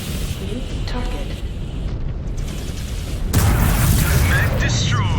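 A mech explodes in the video game MechWarrior 5: Clans, a deep rumbling boom that swells partway through over continuous battle noise, with brief synthetic tones and cockpit voice callouts.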